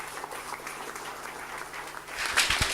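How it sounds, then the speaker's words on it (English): An audience at a digital security talk claps steadily, a dense wash of applause that swells slightly near the end. "Can we all please have a big round of applause for Ben, please?"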